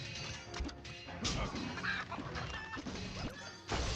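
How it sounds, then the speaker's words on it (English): In the video game Warcraft Rumble, an angry chicken army rushes into battle with clucking and squawking mixed into busy crashes and thwacks of combat, a dense clatter of game effects from start to finish. "So here goes an angry chicken army."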